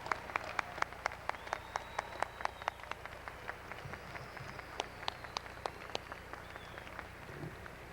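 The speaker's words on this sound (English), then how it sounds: "Will the audience please join me in applauding the achievements of these honored graduates?" Sparse, scattered handclaps from a graduation ceremony audience, a thin spread of separate claps across a quiet hall rather than a full ovation, with faint chatter underneath.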